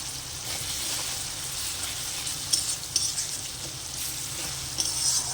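Onion, tomato, green chillies and chilli powder frying in a pan for a pui shak (Malabar spinach) dish, making a loud, continuous close sizzle with occasional soft stirring scrapes and no talk.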